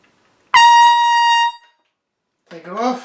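A bright, sustained high C played on an instrument rings out loud and steady for about a second with rich overtones, then stops; a short voiced sound follows after a pause.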